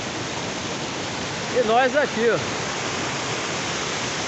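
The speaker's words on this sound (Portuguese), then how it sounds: "Essa maravilha de cachoeira aqui" The Brás Gomes waterfall rushes in a constant, loud, broadband roar of falling water, with a voice briefly speaking over it midway.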